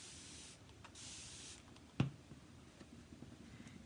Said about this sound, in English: and then you can spray it again